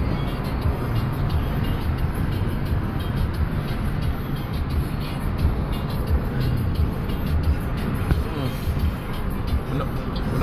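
A car cruising at about 40 mph on quiet roads gives a steady, loud, continuous low road and engine rumble all through, with no clear breaks.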